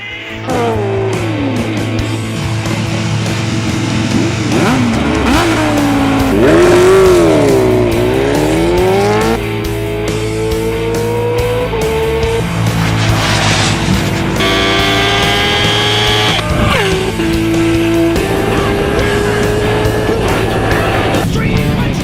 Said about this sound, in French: Pour son premier run, Cluman a choisi la KTM Super Juke R, le roadster le plus puissant de sa catégorie.